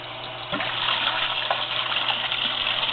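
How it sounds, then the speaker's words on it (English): Water gushes strongly out of the plumbing of an aquarium sump add-on. It is a steady, loud rush of flowing water that swells slightly after the first half-second and then holds at the same level throughout. "We've got quite a good bit of water coming out of there."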